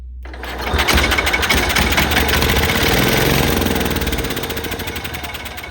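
A Cub Cadet lawn tractor engine with a carburetor problem starts up and runs, a loud, steady mechanical chug with rapid rhythmic pulsing that holds for several seconds, then eases slightly at the end.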